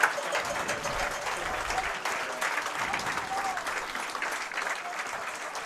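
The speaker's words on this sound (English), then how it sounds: "everyone is now applauding as it seems he is ready to be loaded up and taken to the hospital" Crowd at a college football game, Tufts Jumbos versus Amherst Mammoths, applauds steadily from the stands, a broad, distant wash of clapping that holds for several seconds without pause.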